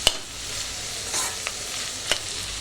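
Onions sizzling in oil for chicken biryani, a steady soft frying hiss broken by a few sharp spoon scrapes and taps against the pan, close and moderately quiet, with no talking.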